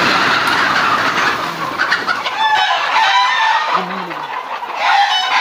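Many chickens clucking on a large Fayoumi poultry farm in Habiganj, Sylhet, a loud, dense chorus of overlapping clucks and cackles nearby, with a faint crow in the mix.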